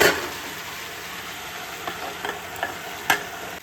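Food with panch phoron is stirred in a pan over a steady frying sizzle, with a few spaced scraping strokes and a sharper clink toward the end.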